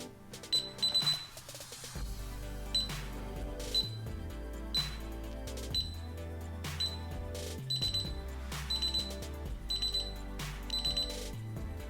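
A DSC Power Series alarm system keypad chime beeps repeatedly and steadily while arming, the beeps quickening, over a low electronic hum, close and clear.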